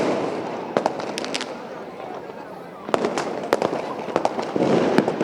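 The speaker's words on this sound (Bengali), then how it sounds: "তার আগেই নগরী এভাবে কেঁপে ওঠে পটকা," Firecrackers and fireworks burst over a city on New Year's Eve night, with sharp, loud cracks and bangs going off irregularly, some in quick clusters, above a steady background murmur of distant voices.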